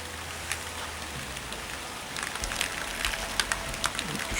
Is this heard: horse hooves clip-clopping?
no